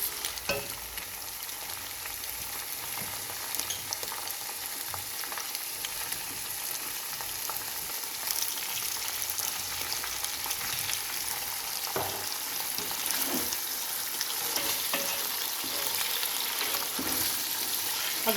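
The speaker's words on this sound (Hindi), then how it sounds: "वाइट होने तक भून लेंगे।" Ingredients for Kabuli (Uzbek) pulao fry in a pot, a continuous close sizzle with occasional scraping and stirring clinks throughout, no talking.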